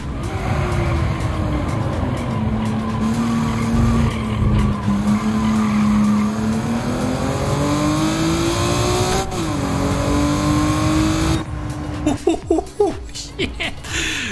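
A Honda NSX Type R races in Gran Turismo 7, its engine droning and rising through gears with loud sustained tire squeal, then a burst of sharper clattering near the end, as someone talks.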